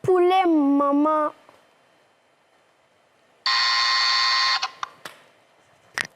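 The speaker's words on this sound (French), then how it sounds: "Si vous pensez détenir la bonne réponse, vous actionnez le buzzer." A quiz-show buzzer on a French-language TV quiz programme gives one harsh, steady electronic tone lasting about a second. It comes after a short wavering musical phrase and a quiet pause, and a few sharp clicks follow it.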